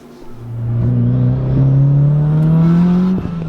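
A BMW M3 engine revs up and holds a rising, steady whine for a few seconds before easing off, loud and close.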